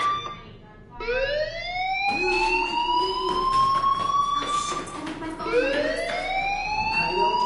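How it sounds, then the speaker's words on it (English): A school fire alarm in the video game Life is Strange sounds as a loud rising-and-falling electronic wail, repeated in long sweeping cycles that fill the whole stretch. "Hey, do you hear that fire alarm?"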